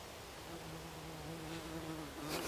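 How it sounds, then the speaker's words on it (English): A wasp buzzes close by in a weedy, nettle-filled garden patch, a steady droning hum that swells and fades slightly as it moves around, with outdoor background noise and no talking. "It was a wasp."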